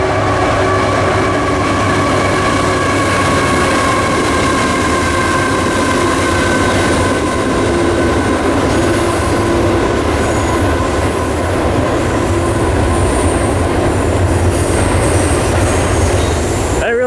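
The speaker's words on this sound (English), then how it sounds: "Oh wow, we're pretty close to the train," Train rumbling steadily past on railroad tracks beside a nature trail, loud and very close throughout, with continuous wheel clatter and high metallic squeal tones.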